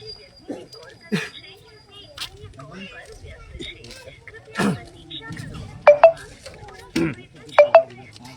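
A phone call to an official rings as two pairs of short electronic tones, one near the end and one just before, over outdoor background noise and scattered voices.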